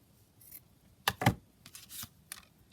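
Scissors trimming paper for a craft project, a few short snips and rustles with one sharp, louder cut cluster near the middle, close and alone.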